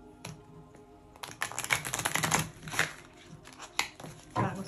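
Tarot cards being shuffled by hand, with bursts of quick papery riffling and flicking interrupted by brief pauses, close and fairly quiet.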